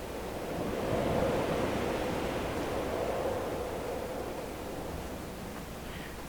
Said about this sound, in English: Now the sound of the ocean and the wind, it does a good job of kind of making you feel cold